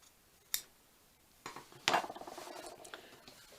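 Scissors snipping paper for a junk journal, a few quiet separate cuts and then a quick run of short crisp snips close by, with no talking.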